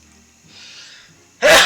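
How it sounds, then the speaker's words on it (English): A single sudden, loud sneeze bursts close to the microphone at the end, after a stretch of quiet, low background game sound during a Pokemon Scarlet stream. "I really gotta sneeze too"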